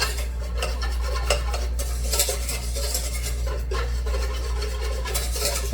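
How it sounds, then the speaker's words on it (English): A whisk scraping and clinking against a pot of pickle brine coming to a simmer, rhythmic stirring strokes over a low steady hum, close up. "as it's coming to a simmer, I'm just gonna give it a nice whisk to incorporate all the ingredients"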